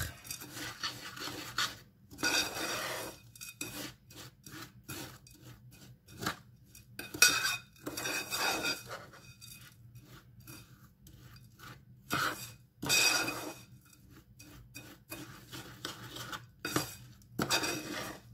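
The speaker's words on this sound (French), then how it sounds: "On mélange tout simplement à la cuillère." A spoon repeatedly scrapes and stirs crushed biscuit with melted butter in a bowl, in short irregular bursts of gritty rasping clinks separated by brief pauses, close and fairly quiet.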